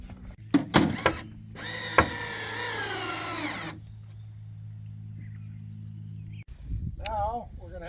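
A power drill drives screws into wooden slats of a queen bed frame: short bursts of motor whine rising and falling, with clicks and knocks of wood between, fairly close, and a brief voice near the end.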